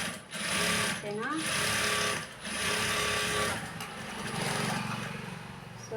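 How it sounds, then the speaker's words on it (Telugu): A sewing machine stitches layered blouse cloth in a loud, close, steady mechanical chatter, running almost continuously with two brief slowdowns. "ఇలానే ఇంకొకటి స్టిచ్ చేసేయండి"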